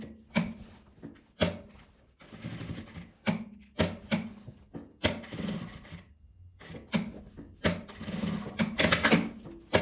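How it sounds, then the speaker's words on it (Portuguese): A sewing machine stitches fabric for a zippered multi-pocket toiletry pouch in short, clattering rapid bursts separated by brief pauses, close and fairly loud. "Costurar aqui aproximadamente 2 a 3 centímetros para fazer um quadradinho."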